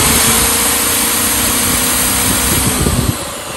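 A Hyundai HDG 2880 generator engine runs in economy mode with a loud, steady high-pitched drone, close by and alone, roughening and fluttering briefly near the end.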